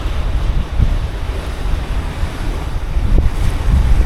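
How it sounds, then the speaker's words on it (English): Strong wind buffets a boat near Beverage Reef, a loud, continuous rumbling roar with surging gusts and wave wash underneath, and no voices. "Come back in here out of the wind."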